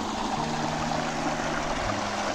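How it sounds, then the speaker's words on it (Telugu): A small stream beside a road in Mulapadu Forest rushes steadily as a continuous broad wash of water noise, with a low hum underneath. "ఏదో సౌండ్ వినిపిస్తుంది, వాటర్ సౌండ్. చిన్న స్ట్రీమ్ ఉంది ఇక్కడ"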